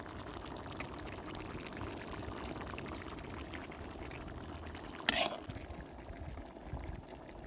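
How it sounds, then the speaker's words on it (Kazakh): Liquid is poured into jars packed with eggplant salad, a low, steady pouring wash running throughout, with a brief sharp clink or splash near the end before the flow settles again. "Банкаларымызды дәл осы тәрізде құйып аламыз"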